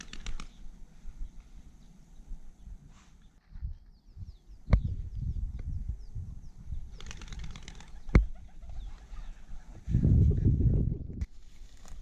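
Pen-raised chukar partridges flush from launchers in a field during pointing Labrador training, with a burst of wing flapping near the end amid scattered thumps and rustling outdoor noise.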